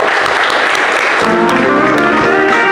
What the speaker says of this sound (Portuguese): Para o Senhor Jesus, uma linda salva de palmas.